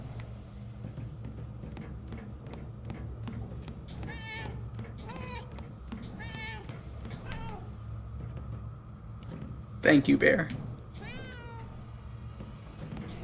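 A cat meows repeatedly in the video game Murdered: Soul Suspect, a series of clear rising mews over a steady low hum, with one louder, closer cry near the end and a brief spoken line.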